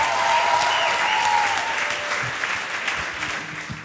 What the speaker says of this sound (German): Und das ist euer Applaus und eure 25 Minuten.